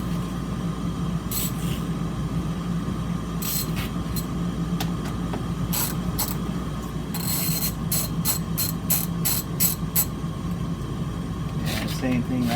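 A ratchet clicks in quick bursts while loosening the tensioner on a 2007 Dodge Magnum R/T 5.7L engine, the sharp ticks close up over a steady background hum.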